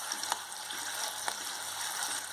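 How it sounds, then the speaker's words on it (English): Potatoes fry in three tablespoons of hot oil, giving a soft, steady sizzle with small crackles and a few light pops, heard close but fairly quiet, with no talking over it. "in 3 tablespoons of oil, here I am frying my potatoes"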